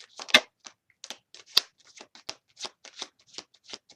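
Tarot cards are shuffled by hand in a quiet room, a run of crisp, close flicks and riffles in irregular bursts with short pauses between them.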